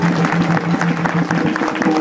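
An audience at a kirtan claps together in a steady, rhythmic beat over a sustained musical tone, fairly loud and close.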